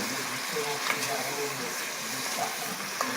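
Sesame chicken simmering in a pan, a soft steady bubbling sizzle close by, with a voice talking over it.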